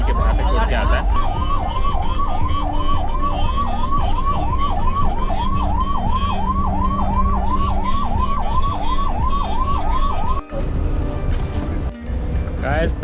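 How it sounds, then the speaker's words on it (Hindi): A police escort car's siren wails in a fast, repeating up-and-down cycle for about ten seconds, close and loud over the rumble of a Delhi to Kathmandu bus on the road. "आपको बता देते पुलिस का सायरन दिख रहा होगा, पुलिस एस्कॉर्ट है।"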